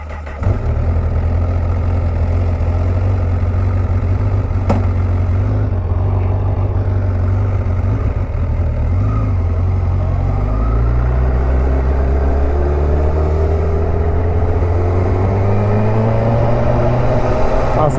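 A Honda CBR1000RR Fireblade sport bike pulls away on a road test, its engine loud and close, idling at first and then rising through revs as the ride gets under way, with wind noise and no speech.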